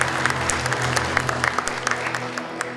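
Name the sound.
applause for award nominees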